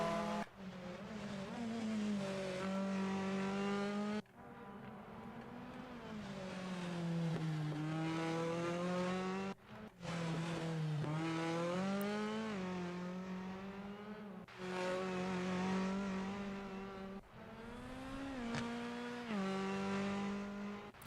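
A race car engine hums through a slow tire-cooling lap, rising and falling in pitch through gear changes and corners, steady and fairly close with brief breaks between shifts.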